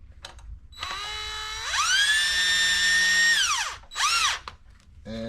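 A DeWalt power drill drives small screws into an electrical switch plate, its motor whining in a long rising, sustained run, then briefly stopping and revving once more in a short burst, loud and close with no talk.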